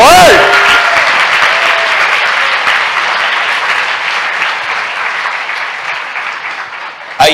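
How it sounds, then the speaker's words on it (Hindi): A church congregation claps in loud, sustained applause that slowly tapers off, with a voice briefly heard at the start and again at the very end. "आइए इस वचन के लिए ताली बजाएं"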